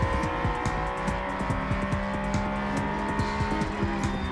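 A race car braking hard and turning into a corner at the Mid-Ohio circuit, with a loud, steady engine drone and rapid downshift blips throughout, plus a faint tire squeal and no talking.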